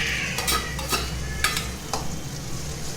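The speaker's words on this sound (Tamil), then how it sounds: "தக்காளி சேர்த்து கொஞ்சம் நல்லா வதங்குற அளவுக்கு வதக்கிட்டே இருக்கணும்" Onions and tomatoes sauté in a pan, a continuous close sizzle with several quick stirring scrapes and clinks and no talking.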